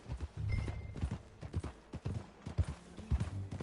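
Horse hooves clip-clop at a steady walking pace in Red Dead Redemption 2, on a ranch, faint and rhythmic, with a brief high whine over the beats.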